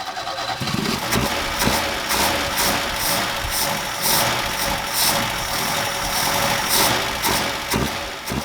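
A 1969 Ford Capri engine idles steadily, a close, even mechanical drone with a regular pulsing beat running throughout.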